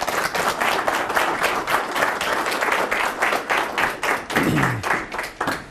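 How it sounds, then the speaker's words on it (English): A small audience at an evening community talk claps warmly, the individual claps distinct and rhythmic, steady throughout with no voices over it. "So give him a warm round of applause"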